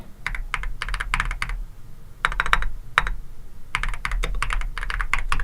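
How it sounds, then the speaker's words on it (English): Rapid clacking keystrokes on a mechanical keyboard, typed in uneven bursts with short pauses, close and clear with no talking. "now everybody sees how terrible my typing is on this mechanical keyboard"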